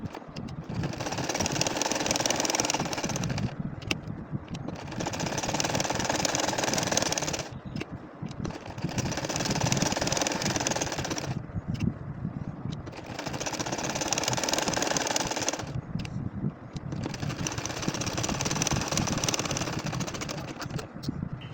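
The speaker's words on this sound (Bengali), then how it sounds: "আমি বাঁকা করে করে সেলাই করে নিব এই যে দেখো ঠিক এরকমভাবে কিন্তু সেলাই করে নিতে হবে" A domestic sewing machine stitches a nakshi kantha quilt in long runs of steady, rapid mechanical whirring, pausing briefly about every few seconds before starting again, close and moderately loud.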